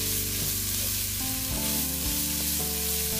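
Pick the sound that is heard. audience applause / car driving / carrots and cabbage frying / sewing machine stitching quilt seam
carrots and cabbage frying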